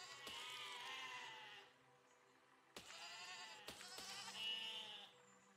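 Sheep bleating in the physics building game Besiege, several quavering bleats in separate bursts, fairly close and alone with no talk.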